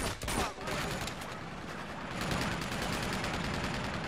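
Sustained minigun fire in the video game Uncharted 2, a dense continuous rattling burst that runs through the whole stretch at steady loudness with a brief dip near the start.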